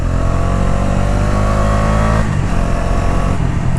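A 2024 Bajaj Dominar 250 motorcycle engine revs loudly and continuously, its pitch rising and then dropping slightly, close up with a deep rumbling tone.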